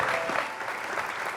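Studio audience at a French live music show breaks into sustained applause and cheering, a dense continuous wash of clapping lasting the whole short stretch.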